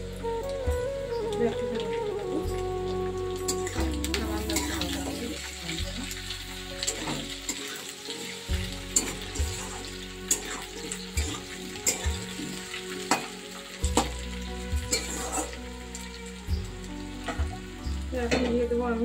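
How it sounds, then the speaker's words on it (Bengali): Potato pieces fry in a pan with a busy, crackling sizzle, broken up by repeated scrapes and clatters from stirring, close and steady, with no voices. "হালকা করে আলুটাকে ভেজে নিলাম"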